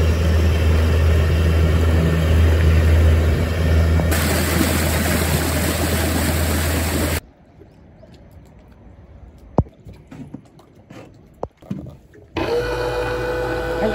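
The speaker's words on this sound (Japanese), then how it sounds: "本日計測できるマックス速度5500回で走っていただいております。" A Yamaha UF-20 boat's outboard engine runs flat out at 5500 rpm as a loud, steady broadband roar. Partway through it drops to a much quieter stretch with scattered clicks and knocks, then the roar returns.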